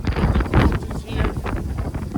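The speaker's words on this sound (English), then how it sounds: "The wind is strong." Strong wind buffets a microphone outdoors beside a creek while fishing, a continuous loud rumbling roar with gusty swells throughout.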